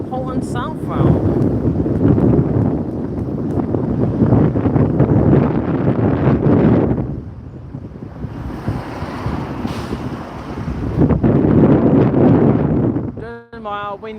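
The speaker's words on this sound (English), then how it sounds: "Don't know how windy it's getting." Strong wind buffets the microphone at a roadside bus stop in Weymouth in loud, rumbling gusts that ease briefly midway before roaring again.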